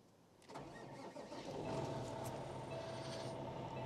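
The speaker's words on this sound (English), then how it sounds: "depress our clutch, and fire the engine" Truck tractor engine fired with the clutch depressed during driver training: a brief cranking whir, then the diesel catches and settles into a steady, rumbling idle, moderately close with no talk.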